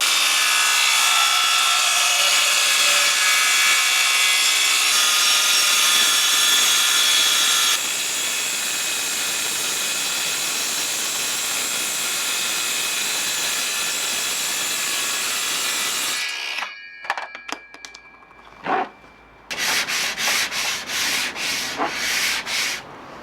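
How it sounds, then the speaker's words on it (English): A circular saw cuts along the edge of a wall panel with a loud, sustained buzzing whine. The pitch drops partway through, then the saw stops, followed by rough rubbing and scraping noises. "or like me, using a circular saw."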